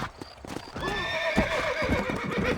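Horses being ridden in Red Dead Redemption, with clip-clopping hooves and a clear neigh and whinny sweeping over the steps, close and moderately loud, with no talking.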